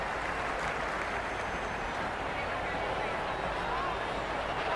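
Steady roar of a large stadium crowd in the cricket video game Cricket 26, during a PSL 11 final between Hyderabad Kingsmen and Peshawar Zalmi, a dense continuous wash of cheering and babble with no breaks.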